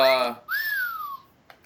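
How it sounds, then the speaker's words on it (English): A sports whistle accidentally set off when a notebook was put down on top of it, giving a short rising-and-falling tone near the mic, right after a brief child-like voice and followed by a faint tap. "I put down my notebook on top of it and did the whistle by accident."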